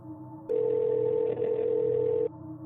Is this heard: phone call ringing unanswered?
yes